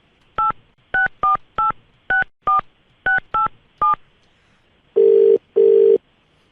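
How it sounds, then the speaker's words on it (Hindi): A phone number is redialed with a quick series of nine separate touch-tone beeps in an uneven rhythm, followed by two longer ringback tones, all loud and clear against silence. "अब यही नंबर रीडायल कर रहा हूँ मैं"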